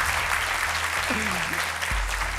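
A TV game-show studio audience applauds for a challenger, a dense, steady wash of clapping sustained throughout, with a faint voice-like tone and low hum beneath.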